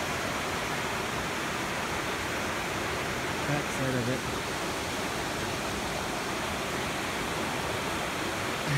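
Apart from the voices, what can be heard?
river flowing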